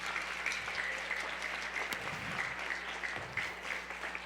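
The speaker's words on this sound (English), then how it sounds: "Give him a round of applause." Audience applauding a speaker at a hosted live show, steady clapping filling the room for several seconds without a clear peak or end.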